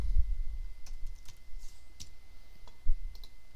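Keys on a computer keyboard clatter in short irregular bursts while an admin email address is entered, close and crisp with brief pauses between taps and no talking.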